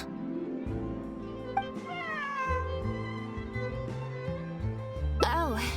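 A cat meows in a video game, with a few distinct rising and falling cries, the loudest near the end, heard over soft background music and game sounds with voices talking.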